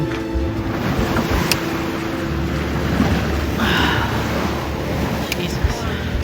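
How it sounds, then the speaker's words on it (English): Ocean waves breaking near a sailboat at sea, steady rushing water and wind noise throughout with a louder surge midway, a voice talking over it. "You see waves breaking."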